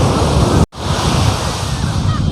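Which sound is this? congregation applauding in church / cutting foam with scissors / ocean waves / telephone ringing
ocean waves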